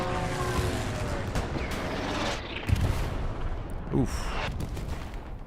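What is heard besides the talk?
Stuka dive bomber attack in video game Hell Let Loose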